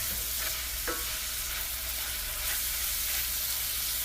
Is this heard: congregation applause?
no